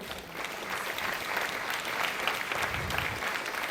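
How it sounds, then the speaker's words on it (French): Claps from an astronomy festival audience welcoming an oceanographer speaker, an even, moderately distant patter of many hands lasting a few seconds without talk. "qu'on peut applaudir s'il vous plaît"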